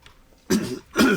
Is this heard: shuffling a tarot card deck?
no